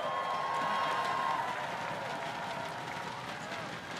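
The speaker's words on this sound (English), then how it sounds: "How about a cheer for fun?" A crowd of students at a campus rally fills the space with sustained cheering and clapping, a dense, steady roar that holds at full level throughout.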